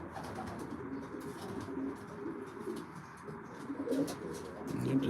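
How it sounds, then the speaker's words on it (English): Pigeons cooing inside a roomy loft, soft overlapping low coos with occasional chirps and rustling, steady and moderately close throughout. "The birds are real nice and calm in here."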